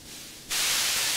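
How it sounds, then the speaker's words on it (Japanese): A modular synthesizer noise source gives a steady white-noise hiss, quiet at first and then jumping abruptly to a loud, bright, constant rush that holds to the end, with no voices. "ノイズの音ですよね。 シャーっていってんのが。"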